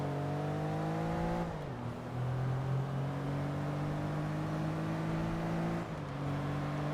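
A 1995 Porsche 911 GT2 with an air-cooled engine revs in Forza Motorsport, a steady loud engine drone that dips briefly as gears shift, then climbs and holds again, with no talk over it.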